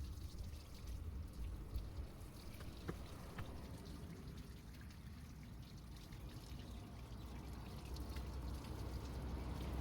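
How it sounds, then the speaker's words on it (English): A steady wash of water hosed over a car engine hisses and patters continuously, with no voices. "we will now hose the engine down again with some clean water."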